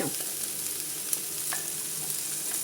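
Courgettes frying in a pan, a steady soft sizzle with occasional light stirring scrapes, close and fairly quiet throughout.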